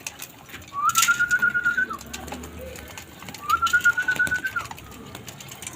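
Pigeons feeding in a winter loft, with two clear drawn-out whistling coos about a second long each, separated by a pause, over a low background of soft shuffling and pecking.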